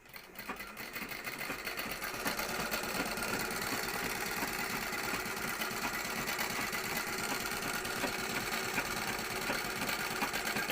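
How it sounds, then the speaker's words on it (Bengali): An overlock machine sews an interlock stitch on fabric for a skirt or palazzo pants, a close, loud, fast mechanical whir that starts up and runs steadily throughout. "কি সুন্দর হচ্ছে ইন্টারলক সেলাইটা।"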